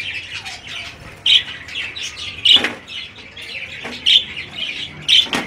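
Budgies, small Australian parrots, in a breeding setup with a rainbow male, a crested female and grown chicks, chirp and twitter near the listener, with sharp squawks breaking out every second or so.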